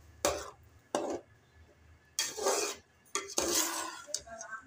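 Khoya kheer is served from a pot into a dish, with sharp metallic scrapes and clinks of a spoon against cookware in a few separate close bursts and quiet gaps between them.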